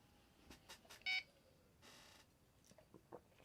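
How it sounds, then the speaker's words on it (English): An electronic board powering up on USB-C power gives a short, bright electronic beep, a single clear tone burst in an otherwise quiet room with faint clicks around it. "We make a beep."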